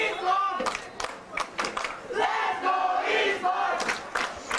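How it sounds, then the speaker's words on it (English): Crowd at a high school soccer match between EHS and Moses Lake, roaring and cheering in sustained waves late in a lopsided game, loud and continuous with bursts of shouting. "Crowd cheering on."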